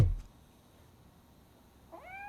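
A cat named Grumpy meows once in RoboCop: Rogue City, a single short rising call near the end after a soft thump and quiet room tone.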